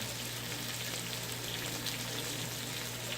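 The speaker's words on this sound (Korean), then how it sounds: "고기가 이게 생각보다 얇아갖고 금방 익어버리네요" Thin slices of pork belly frying on a hot surface, giving a dense, continuous crackling sizzle at steady loudness with no talk.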